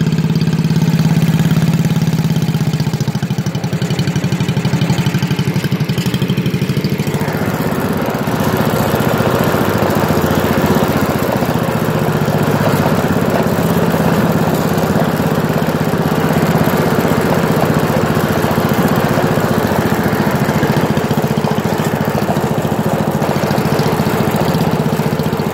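A pull-behind lawn mower engine runs steadily and loud while cutting grass on hilly ground, a constant close mechanical drone with slight shifts in pitch and load, no voices.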